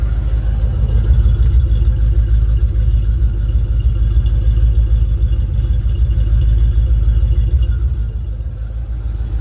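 A 1990 Ford Mustang Notchback's engine runs steadily at idle, a loud, continuous low rumble recorded up close with no talk, easing slightly toward the end.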